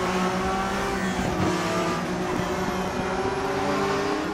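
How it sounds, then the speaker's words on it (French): A Porsche flat-six race car engine in the Raceroom racing game, heard from outside the car, drones in a steady high-revving wail with a few brief gear-change dips and a faint tire squeal, loud and unbroken. "pour vous laisser le son extérieur de la voiture, que vous puissiez entendre un petit peu ce que cela donne, parce que le son du flat 6, c'est déjà très beau"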